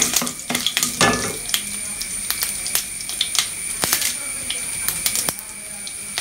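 Fenugreek, urad dal and green chilies frying in hot oil for cabbage thoran, a steady close sizzle with light crackles and the scrape of stirring on the pan.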